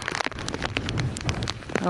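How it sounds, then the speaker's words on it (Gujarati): Dense hiss of rain falling continuously on a surface, close and fairly loud, with a person's voice partly audible underneath. "વરસાદ એક ધારો ચાલુ જ છે"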